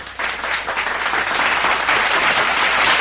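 An interview panel at a fan event gives sustained, dense applause, a steady wash of clapping that holds for several seconds with no talk over it.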